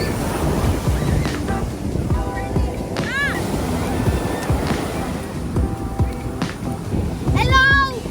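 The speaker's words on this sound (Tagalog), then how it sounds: "Enjoy na enjoy yung mga bata sa mataas na alon." High ocean surf rolls onto San Juan beach, a continuous churning roar with surges and gusting wind noise. Children shriek and call out excitedly over the waves at several points.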